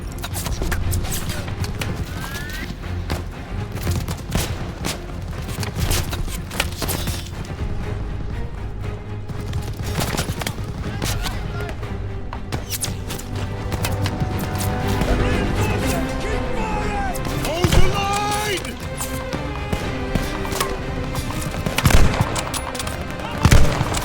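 Dense machine gun fire and scattered gunshots in the Call of Duty: Vanguard mission Operation Tonga, a continuous loud battle din with sharp bursts and crashes, and shouted voices mixed in.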